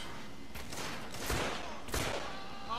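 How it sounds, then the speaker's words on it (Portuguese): Two gunshots ring out in the video game The Order 1886, moderately loud against a low background, with a pause between the shots. "Dois tiros"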